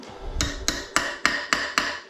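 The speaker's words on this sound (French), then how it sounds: "Donc dans ces cas-là, je lui mets un petit coup de marteau." A hammer gives a rusty, damaged metal part six sharp, evenly spaced taps, each a bright metallic knock ringing briefly, close and loud with no talking.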